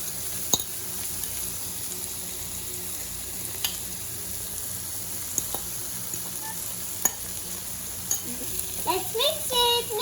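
Egg being stirred and mixed in a hot pan for an omelette: a constant close sizzle with occasional sharp taps of a utensil against the pan, more scraping toward the end.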